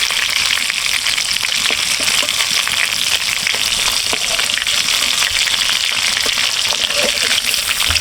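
Sea tuna pieces fry steadily in hot oil in a pan, a loud, dense crackling sizzle that stays constant throughout with no talking.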